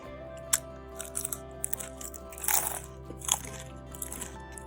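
Close bites into a crispy, sweet dessert spring roll give sharp, crisp crunches scattered over a few seconds, with softer crackles between bites against a low steady hum.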